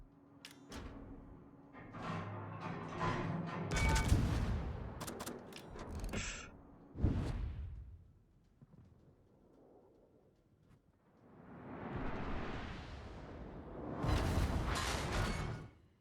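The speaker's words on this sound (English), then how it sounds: "That wasn't a very great dispersion salvo" The main guns of the battleship USS Tennessee in World of Warships fire a salvo, heavy booming blasts in irregular bursts with rumbling decay and quieter gaps between them.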